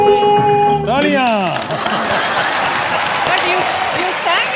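Studio audience applause on a Hindi comedy show, a dense broadband clapping wash running throughout after a sung line cuts off, with voices talking over it.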